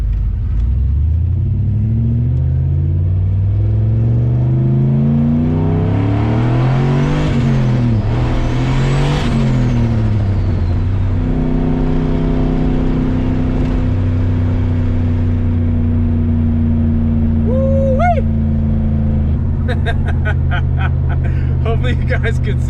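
Pontiac GTO engine revving hard and accelerating through short-shifted gears, loud and close, with rising and falling pitch sweeps; no talk over it.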